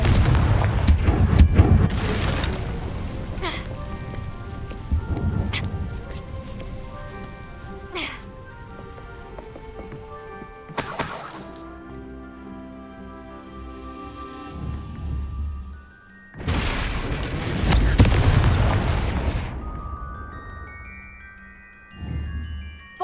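Repeated Confringo blasting spell explosions in the Hogwarts Legacy video game: several loud, sharp booms with crackling tails, including a big cluster late on, separated by quieter stretches of game music and ambience.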